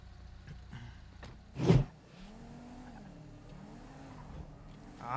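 A car in GTA 5 is heard faintly, with a brief louder whoosh early on, then low engine tones that rise and fall in gentle sweeps, and a sharper burst right at the end.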